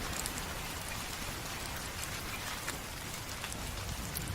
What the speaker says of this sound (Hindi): लगातार बारिश हो रही थी।